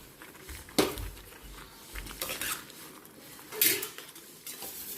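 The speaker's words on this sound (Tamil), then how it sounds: "அந்த பாஸ்தாவை இப்போ வந்து நம்ம இதில் ஆட் பண்ண போகிறோம்" Boiled pasta goes into a pan of thickened white sauce made with butter and roasted maida flour, giving quiet clinks and scrapes of a utensil against the pan with a few sharper knocks.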